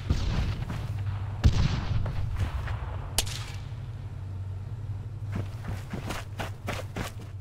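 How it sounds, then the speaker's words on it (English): Gunfire crackles in an Arma 3 firefight: a few sharp distant shots early, then a quick irregular volley of cracks near the end over a low rumbling background. "Oh, whoa, what are all these shots?"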